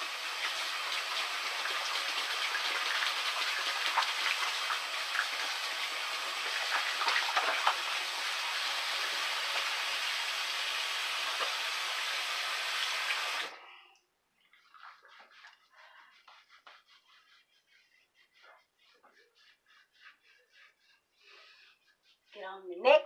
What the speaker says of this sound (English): I go ahead and wash my face.